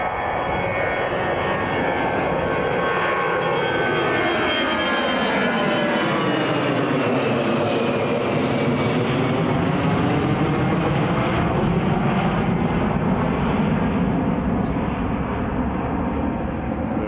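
An EasyJet airliner takes off at Newcastle International Airport, its engine roar loud and steady throughout, rising and then easing as the aircraft passes, with a Doppler-like sweep in the tones.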